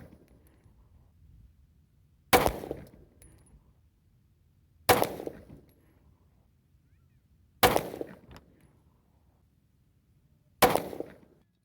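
Four sharp, loud reports from a Walther PPS pistol firing 9mm subsonic handloads with Power Pistol powder, spaced evenly about two and a half seconds apart, each with a short decaying tail over a quiet background.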